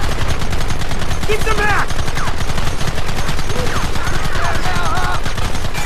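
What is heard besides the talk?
gunfire in the video game Red Dead Redemption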